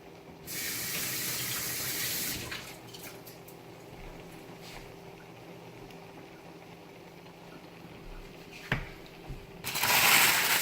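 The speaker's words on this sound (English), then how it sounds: "And then just wash my hands real quick." Running tap water pours into a kitchen sink while washing hands during chicken preparation, in two bursts, a steady hiss at the start and again at the end, with quiet handling noises between.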